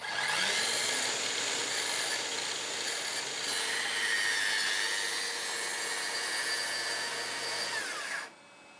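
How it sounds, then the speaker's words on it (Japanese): A circular saw cuts through wood while a workbench is being built. It gives a steady, loud, close whine for about eight seconds, then drops off sharply as the blade exits the board. "この丸のギリギリまで丸ノコを入れます"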